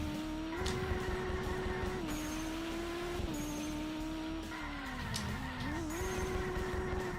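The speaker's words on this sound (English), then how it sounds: "Making our way down this mountain. Yeah, I'm actually really loving the way this car drifts." A video-game car drifts down a mountain road with its engine holding a steady, sustained tone. Tires squeal and skid repeatedly as it slides through the turns, loud and continuous.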